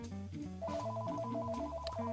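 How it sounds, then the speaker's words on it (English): A melodic phone ringtone plays a looping sequence of tones at moderate volume, with no voices over it. "My phone's ringing."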